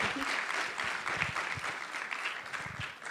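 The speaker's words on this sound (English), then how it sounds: "You should definitely clap for that." Light, scattered clapping from an audience, fairly faint and brief, with a few louder individual claps standing out.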